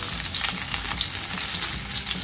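Chopped onion sizzles steadily in a hot oiled pan at the start of a squid adobo, a dense, even crackle that fills the whole stretch with no voices over it.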